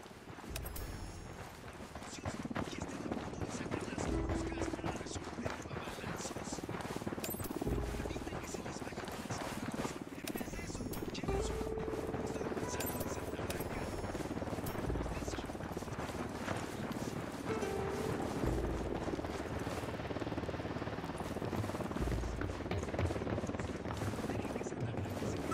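A video-game helicopter approaches, a low rhythmic rotor thumping under dense, busy game noise that runs throughout at a fairly quiet level.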